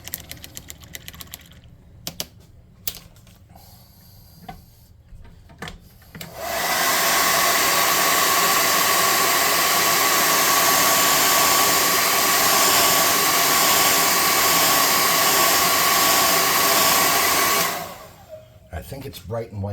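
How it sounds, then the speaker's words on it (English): A hair dryer blows on wet paint on a handmade neon sign, switching on with a sudden loud steady whine after scattered handling noises, running about ten seconds, then cutting off. "Let's dry this off."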